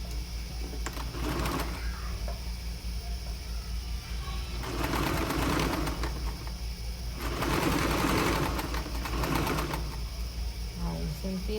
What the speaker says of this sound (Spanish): todo este contorno lo vamos a coser a 1 centímetro